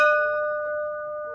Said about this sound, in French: on peut faire sonner la cloche.